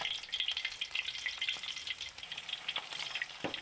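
Five-spice shrimp fritters fry in oil, a soft continuous bubbling sizzle with scattered crackles, fairly quiet and close, with no one talking.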